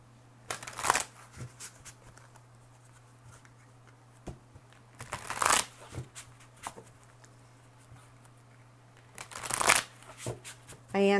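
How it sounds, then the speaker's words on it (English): Three separate bursts of tarot cards being shuffled, each a quick papery riffle, spaced several seconds apart against a quiet room with a low hum. "I'm going to go ahead and now shuffle for the general reading."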